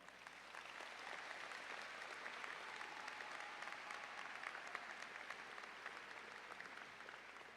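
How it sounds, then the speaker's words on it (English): Steady, dense applause from a large audience at a graduation ceremony honoring the graduates' parents, sustained and even throughout at a moderate distance. "Please, a round of applause for Mom and Dad."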